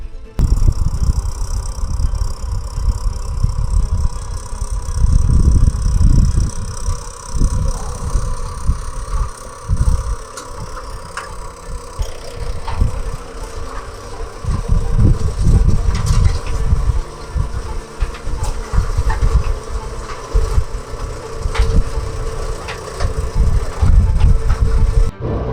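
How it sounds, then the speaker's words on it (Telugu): A tractor ploughing a field being prepared for planting tomatoes, its engine droning steadily and close by for the whole stretch, with louder low rumbling surges coming and going as it works. "సో రండి వెళ్దాం మనం కూడా ఒకసారి ట్రాక్టర్ ఎక్కి ఎలా దున్నుతున్నారో చూద్దాం."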